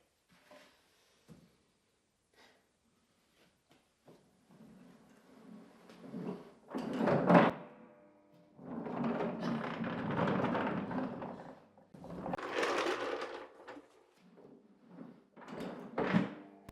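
A tool cart's lever-deployed casters are tested empty: faint clicks and taps, then louder clunks and the rumbling roll of the cart moving across the floor in several bursts, with thuds between.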